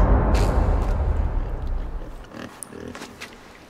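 A pig in the game Inside gives a few grunts and snorts, loud at first amid a rumbling crash that fades, then a couple of short, quieter grunts alone.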